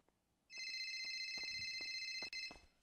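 A phone rings with steady high electronic tones for about two seconds, while faint clicks and knocks sound underneath, close and clear with no talking, though no phone is on the person.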